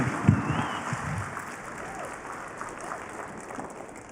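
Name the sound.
keynote audience applause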